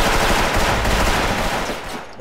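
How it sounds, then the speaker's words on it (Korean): Loud, continuous automatic gunfire in the Special Force video game forms a dense, rapid burst of shots close by that fades slightly near the end. "총소리 총!"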